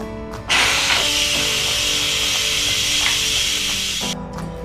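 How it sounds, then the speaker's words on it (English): A steady, loud hiss of steam venting under pressure from an Instant Pot quick release, starting abruptly and holding for several seconds before cutting off. "we're going to do a quick release on the Instant Pot"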